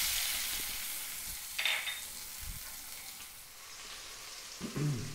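Red onion fries in vegetable oil and ghee with a bit of water, giving a steady hissing sizzle with a few soft clinks and stirring knocks, close up and without speech.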